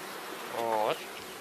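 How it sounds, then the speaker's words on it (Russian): Honey bees buzz briefly and closely over a hive frame while the nest is expanded in April, a short droning swell rising over a quiet background. "Сейчас, чтобы пчелка не мешала, немножко стряхнем."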